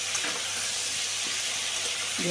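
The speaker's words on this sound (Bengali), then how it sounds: "আদা কাঁচা লঙ্কা বাটাটাও লাউয়ের সাথে মিশিয়ে নিচ্ছি একটু নাড়াচাড়া করে দিচ্ছি" Ginger and green chili paste is stirred into bottle gourd frying in a pan, giving a steady close sizzle and hiss with a few soft scrapes of the spoon and no talking.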